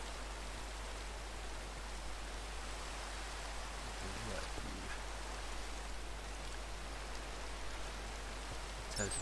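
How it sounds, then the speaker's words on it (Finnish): Rain falls steadily in a Minecraft world, a constant soft hiss of patter holding even throughout, with a faint bump or two near the middle. "Tuu paljon sataa."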